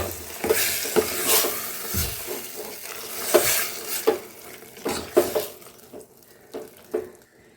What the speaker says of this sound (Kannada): ಬೇಯಿಸಿಟ್ಕೊಂಡಿರೋ ಮಾವಿನಕಾಯಿ ಮತ್ತು ಬೇಳೆಯನ್ನು ಹಾಕ್ತಾಯಿದ್ದೀನಿ ನೋಡಿ ಇವಾಗ ಒಂದು ಸರಿ ಚೆನ್ನಾಗಿ ಮಿಕ್ಸ್ ಮಾಡ್ಕೊತಾ ಇದ್ದೀನಿ